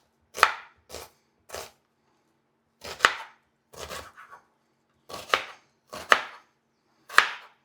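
A knife chops onion finely on a cutting board: about nine sharp, close wooden knocks come singly and in short clusters, with silent pauses between them and no voices.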